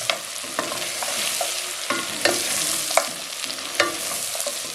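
Ground coriander and coarsely ground roasted cumin toast in a pan for a mutton and onion stew, giving a steady close sizzle punctuated by the sharp scrapes and taps of a spoon stirring.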